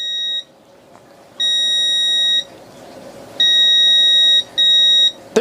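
One For All Smart Control 8 remote finder sounding a series of shrill electronic beeps, four to five steady tones of uneven length separated by short gaps, close and clear over a faint background.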